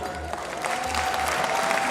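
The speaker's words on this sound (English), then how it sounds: "You get up and you give them, your children, your boys a round of applause." Parents in a graduation-ceremony audience give a round of applause for young male graduates, a loud, steady wash of clapping with crowd cheers and whoops mixed in, swelling slightly over the short stretch.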